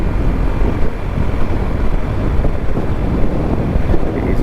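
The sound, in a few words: strong wind on a high bridge over the Columbia River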